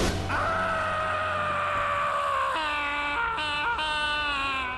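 A Bloodborne boss lets out a loud, drawn-out death scream, first a wavering, strained wail, then breaking into shrill, rising and falling cries toward the end, with no speech over it.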